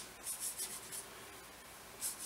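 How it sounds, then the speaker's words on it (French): A wet brush rubs across watercolor paper, wetting it for painting macarons: soft, faint brushy swishes in a few quick strokes, then a pause and one more stroke, close and quiet with no talk. "Je vais commencer par mouiller le papier"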